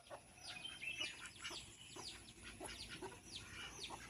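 Chickens, including a black hen with chicks, clucking and chirping outdoors, a scatter of short faint calls repeating irregularly against a quiet background.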